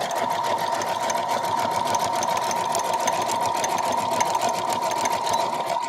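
Home sewing machine stitching a zigzag embroidery pattern, running in a loud, steady, continuous mechanical whir with a rapid needle rhythm close by, with no talking over it.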